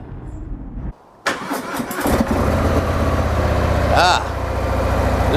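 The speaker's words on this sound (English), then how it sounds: "gotta start this engine" A Harley-Davidson Softail Sport Glide engine cranks over after a brief pause, catches and fires, then settles into a loud, steady, rumbling idle, with some talk heard alongside it.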